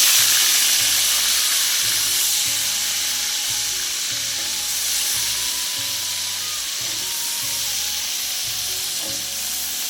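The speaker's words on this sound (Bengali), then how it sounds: "আমরা জল থেকে ছেঁকে আলুটাকে দিচ্ছি কড়াইতে।" Drained potatoes sizzle and fry hard in a wok of hot oil just used for shrimp, for a Bengali home-style dish; a loud, continuous crackling hiss with no voices.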